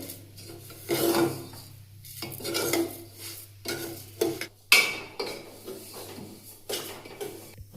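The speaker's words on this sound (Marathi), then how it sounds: "अधूनमधून व्यवस्थित असे हलवत हलवत 2 मिनिटं व्यवस्थित आपल्याला रवा भाजून घ्यायचा आहे" Spoon scraping and stirring semolina as it roasts dry in a pan for sweet jaggery lapsi, a series of gritty rasping strokes in irregular bursts, close and fairly quiet, with no talking.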